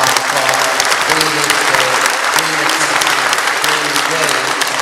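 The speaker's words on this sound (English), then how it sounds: "we're going to give you all a round of applause, all young people, a warm round of applause" Warm audience applause at a student forum, steady clapping from a large crowd filling the room for several seconds without pause.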